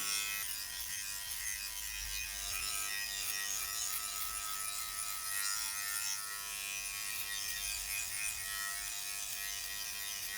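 Philips Body Groomer 3000 Series (BG34 model) electric trimmer cutting body hair, a steady close buzzing drone with a bright, hissy edge that runs unbroken and alone throughout.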